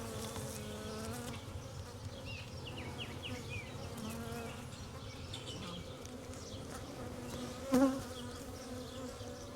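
Honeybee swarm filling a hive box hums with a dense, continuous drone, individual bees whining past close by over the steady buzz, with one brief louder buzz near the end.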